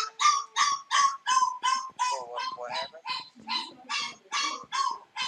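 A dog yelps over and over in quick, regular high-pitched bursts, loud and close, about a dozen cries in a steady rhythm with no talking.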